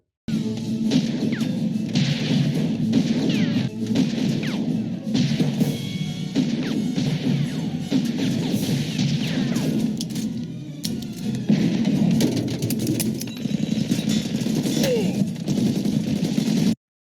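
Gunfight footage plays back as a continuous loud barrage of gunshots, crashes and impacts layered over a dense, noisy background.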